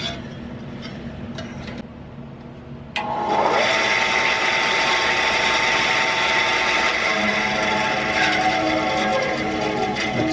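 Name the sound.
band saw running after drive belt replacement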